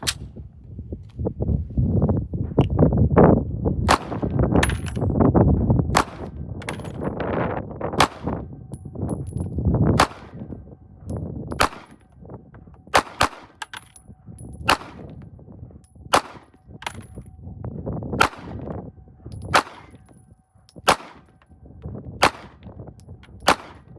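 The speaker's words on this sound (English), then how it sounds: "Let's put some more rounds downrange." Single shots from a SIG Sauer P226 X Legion Carry pistol at a shooting range ring out sharp and loud, a steady series of evenly spaced cracks with brief pauses between them.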